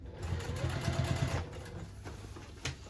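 A sewing machine runs in a short close burst along a tote bag seam, a rapid mechanical whir that slows and stops before a brief clack of handling.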